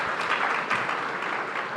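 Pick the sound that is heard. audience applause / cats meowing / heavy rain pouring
audience applause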